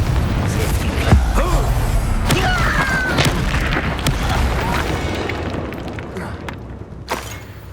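Confringo fire spells and a Flipendo cast in Hogwarts Legacy, a series of booming blasts and sharp cracks over a rumbling game background, fading toward the end.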